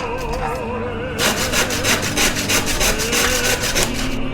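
Handsaw cutting through a wooden plank, a close, steady back-and-forth rasp of strokes that grows louder and more rhythmic partway through, with no talking.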